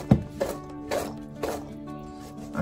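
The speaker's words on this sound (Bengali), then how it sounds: "একটু পরে পরে ঠিক এইভাবে আপনাদেরকে এটাকে নেড়ে দিতে হবে" Boiled dried peas for ghugni are stirred in a pot over low heat, giving soft, evenly spaced scraping knocks roughly every half second, fairly faint and close.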